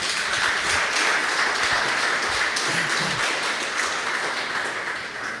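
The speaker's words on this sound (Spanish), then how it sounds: "Yo verdaderamente se merecen un gran aplauso." A church congregation applauds together, a steady, dense wash of clapping that fills the room and holds evenly before easing slightly toward the end.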